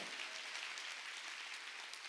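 A congregation claps together at a Korean church summer mountain revival meeting, a quiet, steady wash of many hands with no voices.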